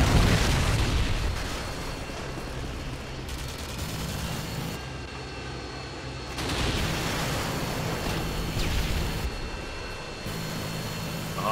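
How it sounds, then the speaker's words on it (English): Booming explosion blasts in Call of Duty: Modern Warfare 2 Search and Destroy on Xbox One, with a predator missile striking amid dense, continuous rumbling gunfire and bursts that swell loudly at the start and again midway. "Enemy predator missile."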